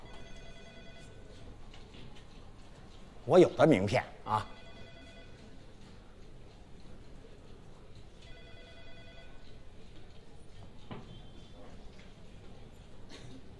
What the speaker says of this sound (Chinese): 他怎么不接我电话呀？